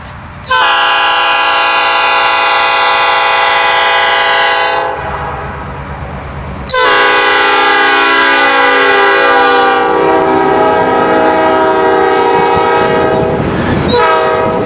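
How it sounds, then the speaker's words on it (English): Up close, a Michigan Shore Railroad train near West Olive sounds two long, loud horn blasts as it passes, with a brief pause between them and rumbling rail cars underneath. "As the train nears the switch at West Olive, it takes an S-curve as it parallels West Olive Road."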